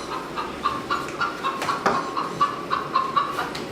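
A hen clucks in a theatre performance, a series of short, rhythmic clucks repeating at a lively pace, moderately close with no talk in between.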